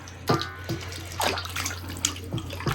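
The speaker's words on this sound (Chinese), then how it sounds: "加水洗一下" Lamb shank bones being rinsed in water in a home kitchen, with a steady flow of water and several sharp splashes and clunks as the bones are handled, close and moderately loud.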